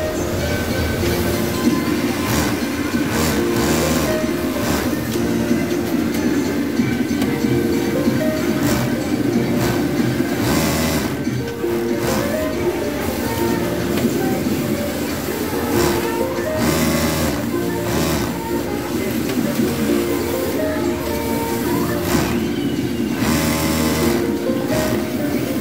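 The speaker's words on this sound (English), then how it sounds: "Sleeve hemming by this machine." Yamato cylinder bed industrial sewing machine hemming a sleeve, running as one steady, loud, continuous mechanical chatter that is dense and rhythmic, with no pauses and no voices over it.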